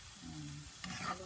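Onion frying in butter in a hot pan while being stirred, a quiet, brief sizzle with scraping stir strokes near the end, no voices.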